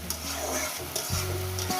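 A tomato and eggplant mash fries and is stirred in a pan over high gas, loud close sizzling with scraping stirring strokes repeating every half second or so.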